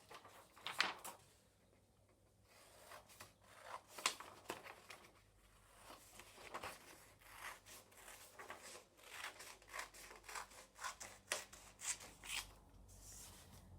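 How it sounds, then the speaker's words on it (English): Scissors cutting through folded paper for an origami pop-up book: a run of quiet, close snips and rustles, irregular in rhythm, with soft paper handling between cuts and no speech. "take a pair of scissors and cut along"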